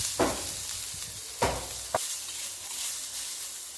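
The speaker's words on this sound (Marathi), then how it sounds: "आता कांदा भाजून घेऊया" Onion roasts in oil in a pan with a steady broad sizzle, broken by a few sharp clacks and scrapes of stirring early on, close and fairly loud.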